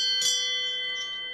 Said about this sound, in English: Might as well ring the bell.